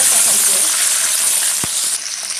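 Whole spices tempered in three spoonfuls of hot oil for a carrot and pea pulao, giving a loud, steady close-up sizzle with one brief low knock partway through.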